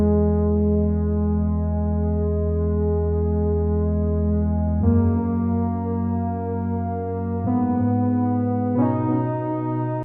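Sustained synth keys from the About Time preset hold mellow chords following a piano's chords, changing a few times with smooth, steady volume, ending on a brief bright flourish.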